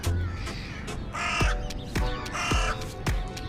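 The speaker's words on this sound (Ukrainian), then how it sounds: "Ворону більше чути." A crow caws repeatedly along the Lanzheron seaside in Odesa, about five harsh calls in an irregular rhythm, fairly close and loud over faint background noise.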